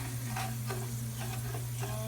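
Fresh basil and garlic sizzling in sausage drippings in a pan for Italian Sunday sauce, a steady close frying hiss with a few soft stirring scrapes over a constant low hum.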